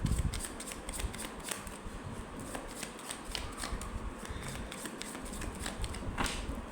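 Tarot cards being shuffled by hand in a steady run of soft riffling and tapping, close and continuous throughout with no talk.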